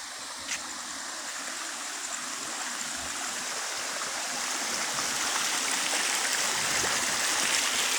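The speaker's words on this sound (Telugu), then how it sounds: "ఇది వాగు, డౌన్ బ్రిడ్జి వాగు అంటారు" Forest stream flowing under a bridge among large rocks, a steady broadband rush of water that grows slightly louder over several seconds, with no talk.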